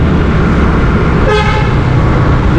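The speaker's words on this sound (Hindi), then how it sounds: "ये फिर हॉर्न बजा रहा है" A car horn toots once over steady, loud road traffic noise at a traffic signal, with no voices.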